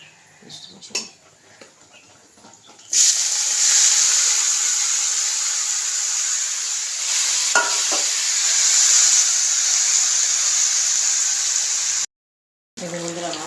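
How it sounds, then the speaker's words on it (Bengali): Bay leaves, cloves, cinnamon, cardamom and marinated meat hit hot oil in a pan, setting off a loud, steady sizzle that runs on for several seconds after a few clinks of utensils. "ফোড়নে দিচ্ছি তেজপাতা লবঙ্গ ডালচিনি এলাচ ম্যাগের মাংসটা দিয়ে দিচ্ছি"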